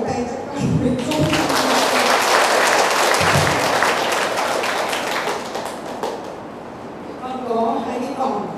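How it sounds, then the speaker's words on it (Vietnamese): An audience at a mindfulness meditation gathering bursts into loud, full applause that swells quickly, holds for several seconds, then thins out. Voices murmur faintly as it fades. "cho con một tràng vỗ tay cho con mình chung"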